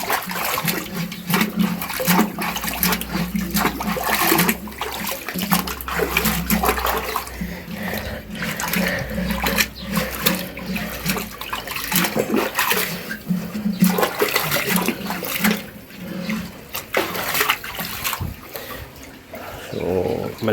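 Water drains and gurgles steadily out of a catfish tank that has just been cleaned, a continuous rushing, splashing flow at close range with a low hum underneath.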